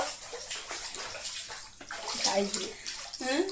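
Floodwater in Tripura flows and splashes steadily close by, a broad rushing wash with excited voices talking over it.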